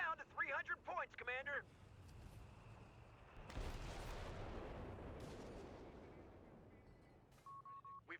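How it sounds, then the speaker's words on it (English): A howitzer fires in the strategy game Company of Heroes 3, one heavy blast with a long rumbling decay. Brief game voice chatter and interface chirps come just before it and again near the end. "whilst the howitzer is plugging away"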